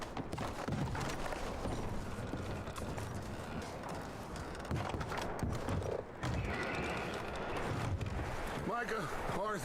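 Horse hooves clip-clop in the Western video game Red Dead Redemption 2, a steady rhythmic patter at a homestead with barn and cabin, mixed under game sounds and a man's speech.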